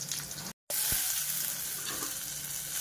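Cumin, dried red chillies and onion fry in plenty of oil, a steady close sizzle broken by a brief silent gap and a light clink.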